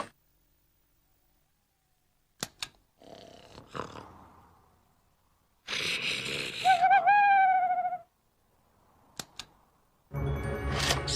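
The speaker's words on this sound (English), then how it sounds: "It's only an owl, Dig, Said Doug." An owl hoots amid scattered sounds in a quiet night scene, with a few sharp clicks, a wavering tonal call that rises and falls, and a burst of noise near the end.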